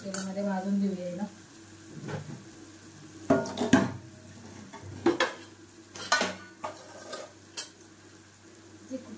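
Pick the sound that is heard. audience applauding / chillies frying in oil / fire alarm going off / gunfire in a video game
chillies frying in oil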